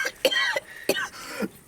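A person imitates the rasping cough a seriously ill film character gives: three quick harsh bursts, close and fairly loud, with short gasping gaps between them.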